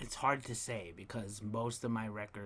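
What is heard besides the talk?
None of the usual background noises is heard.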